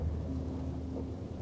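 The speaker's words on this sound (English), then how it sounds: "The storm." Thunderstorm in the video game Life is Strange Double Exposure: a steady, dense rumble of rain and low thunder fills the moment, constant and fairly loud with no voices.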